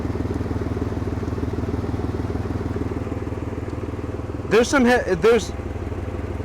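A Chevrolet Camaro engine keeps idling with both fuel lines disconnected, a steady close rumble throughout, and a person talks briefly over it near the end.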